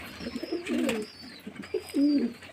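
Pigeons and their chicks feeding, with close, soft throaty coos rising in two or three rolling bursts over a faint high background tone.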